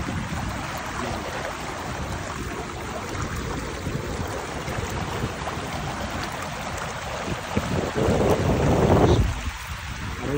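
Steady rushing water from a fountain in Italy, loud and continuous, mixed with gusty wind buffeting the microphone, and a heavier surge of noise just before the end.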